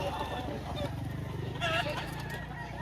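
Chickens at a poultry market in Lipa, Batangas, with brief clucks and fowl calls mixed into a busy market din, heard under steady conversation between buyers and sellers.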